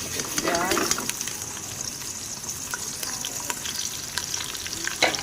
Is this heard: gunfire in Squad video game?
no